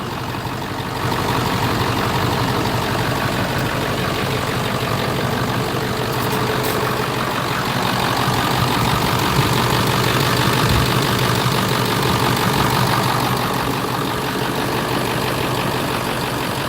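A diesel truck engine idles after valve work, a loud, close, steady rumble with a fine rhythmic knock that runs unbroken throughout.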